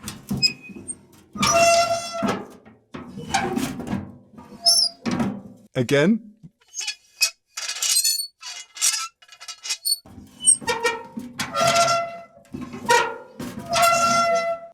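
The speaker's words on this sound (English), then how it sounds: "And now onto the resonance chamber." A Foley door creak for a video game, made with a squeaking tool fed through a resonance chamber, sounds as a series of drawn-out, honking squeals and groans in short bursts, with someone speaking briefly between them.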